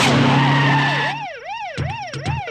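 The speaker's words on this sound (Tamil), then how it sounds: "டிரைவர் வண்டி எடுப்பா." A police vehicle pulls away with its siren wailing in rising and falling sweeps, loud and close, over engine rumble, with a couple of sharp bursts near the end.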